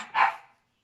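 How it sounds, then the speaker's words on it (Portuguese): A single short dog bark, near and fairly loud, fading quickly into silence. "É que a Milly tava latindo, vocês escutaram"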